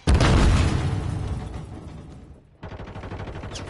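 A loud grenade blast opens the scene in Call of Duty: Modern Warfare 3, its boom decaying over two seconds, then a brief lull before steady rapid gunfire resumes at close range.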